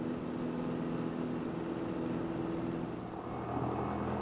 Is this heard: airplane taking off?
yes